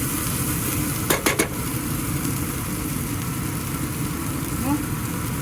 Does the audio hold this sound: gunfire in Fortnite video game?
no